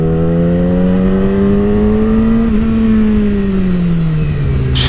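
A motorbike engine in a video game drones loudly and continuously, its pitch rising slowly and then easing back down, with no talking over it.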